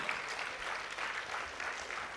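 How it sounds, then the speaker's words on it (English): Applause at an awards ceremony for Good Samaritans, honouring the Indian Army: a steady round of audience clapping, even and sustained, heard from some distance at a soft level. "let's give a big round of applause to our Indian Army"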